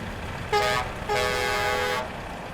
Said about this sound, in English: He's not even got an air horn on top, so I don't know why he's making that noise.